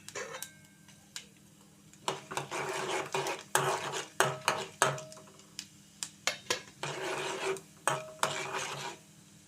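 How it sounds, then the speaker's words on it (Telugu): Mustard and other tempering seeds frying and popping in about two spoons of hot oil in a pot, with sharp crackling bursts and small pops scattered irregularly over a low sizzle, close by. "తాలింపు గింజలు ఇలా మెల్లగా వేగుతూ ఉండనివ్వండి"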